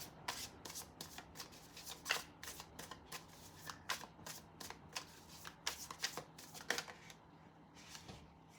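Tarot cards are shuffled and drawn in a quiet room, a series of soft, quick riffling and flicking bursts repeating unevenly, close and faint with no talk.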